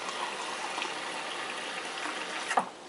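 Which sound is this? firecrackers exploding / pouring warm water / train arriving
pouring warm water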